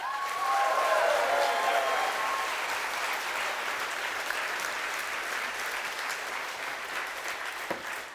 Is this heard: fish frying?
no